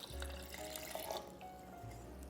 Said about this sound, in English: And then we're going to add 1 cup of water.